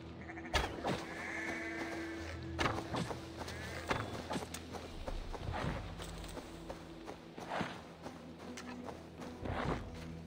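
Sheep bleating in the Viking-era game Assassin's Creed Valhalla, several repeated bleats at close range over hoof clip-clops, footsteps and a steady game ambience.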